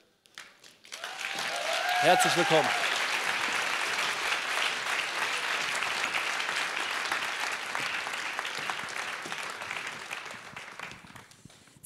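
At a Church without Walls event, an audience welcomes guests on stage with loud, sustained applause lasting about ten seconds. A voice speaks briefly over the clapping near the start, and the applause fades out at the end.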